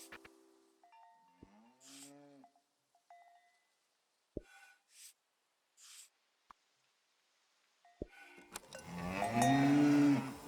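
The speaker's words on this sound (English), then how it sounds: "That's a cow" A cow lets out a loud, close, drawn-out moo near the end, after scattered quieter sounds that may include a clanking cowbell and brief voices.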